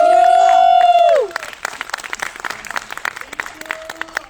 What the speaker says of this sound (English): Tepuk tangan sikit guys